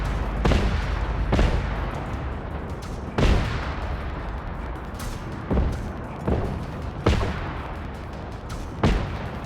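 Repeated gunfire aimed at a tank in the Generation Zero game, with sharp loud shots landing at irregular intervals over a steady rumble and no voices.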